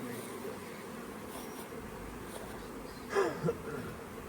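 Honey bees buzz around an open hive in a low, steady, fairly faint drone, with a couple of brief louder passes near the end.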